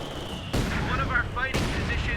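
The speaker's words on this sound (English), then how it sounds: "So MGs and mortars, kind of annoying." Machine guns and mortars firing in the battle game Company of Heroes 2, two sudden loud bursts of gunfire and blasts a second apart, each trailing off into rattling combat noise.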